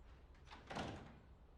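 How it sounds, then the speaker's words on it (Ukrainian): A door swings shut in a hospital office, a single soft, distant thud with no voices over it. "Єгора Олеговичу, зачиніть двері, у мене прийом."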